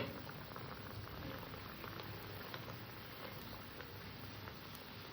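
Fish curry gravy with mustard and poppy seed bubbling as it boils with the fish in it, a soft, steady patter of bursting bubbles, faint and continuous with no voices.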